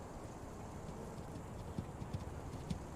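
A horse moving off in a Western film, its hooves giving a faint, irregular clip-clop over steady background noise, with no talk.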